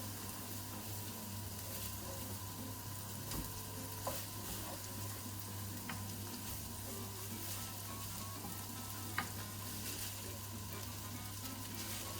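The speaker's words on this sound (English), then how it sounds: "stir it while it's cooking so it doesn't glug up" Jasmine rice simmers and is stirred in a pot, a low steady bubbling sizzle with occasional soft scrapes and taps of the utensil, close up and fairly quiet, no voices.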